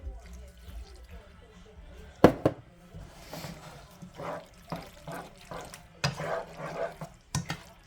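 Starchy pasta water is splashed and poured onto pasta coated with grated Parmesan, giving short wet trickles and a few sharp clinks in a home kitchen, heard under a person's talking.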